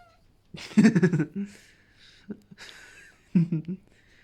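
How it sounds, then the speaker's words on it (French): A cat meows a few times, with short separate calls spaced across a few seconds, close and fairly loud in a quiet room. "Et là, il y a mon petit chat."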